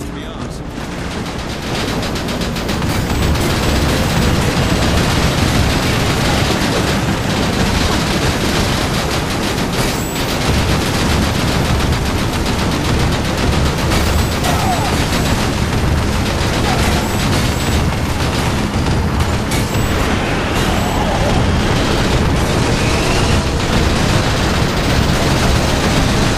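Turret gunfire and explosions in a Fuse video game firefight, continuous and very loud, with relentless rapid shots and sharp bangs filling the whole stretch, voices occasionally buried in the din.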